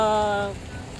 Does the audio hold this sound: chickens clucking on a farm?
no